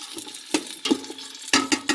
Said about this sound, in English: As you can hear that little sizzle. Just kind of saute them all together here.